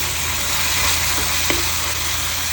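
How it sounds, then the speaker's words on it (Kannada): A chicken leg fries in hot oil, giving a steady, even sizzle that fills the whole moment, with one faint tap near the middle. "ಇಲ್ಲಿ ಅನ್ನ ಸಾಂಬಾರು ಜೊತೆ ಒಂದು ಚಿಕನ್ ಲೆಗ್ನ ಫ್ರೈ ಮಾಡೋಕ್ಕಿಟ್ಟಿದ್ದೀನಿ"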